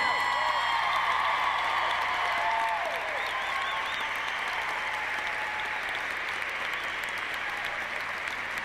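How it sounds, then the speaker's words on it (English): Arena crowd applauding a figure skating pair at an exhibition, sustained dense clapping with some cheers and whistles rising over it, holding steady throughout. "Don't stop applauding,"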